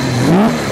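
Engine of a Benelli 900 Sei motorcycle revving, a steady mid-pitched drone that rises in a short upward sweep, loud and close, with no talk.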